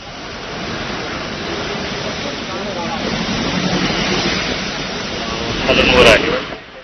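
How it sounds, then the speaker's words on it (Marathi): A loud, steady roar of rushing water released from Khadakwasla Dam into the riverbed at 2000 cusecs during heavy monsoon rain in Pune, rising briefly near the end. "धरणातून दोन हजार क्युसेक वेगानं नदीपात्रात पाणी सोडलं जात आहे"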